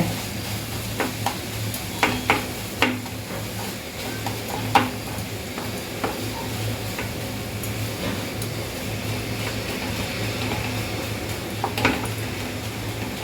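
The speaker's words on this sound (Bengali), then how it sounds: "দুধগুলো মিশিয়ে দিচ্ছি" Milk is stirred into carrot halwa in a pan, with a steady low sizzle and bubbling beneath scattered clinks and scrapes of a spoon against the metal, close and moderately quiet.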